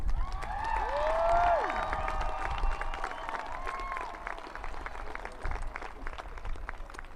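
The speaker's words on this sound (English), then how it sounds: "Please take a moment to thank them with a round of applause" A commencement ceremony audience applauding graduates' families and friends, a broad wash of clapping and crowd noise filling a large hall, with a cheer or whistle early on, fading slightly toward the end.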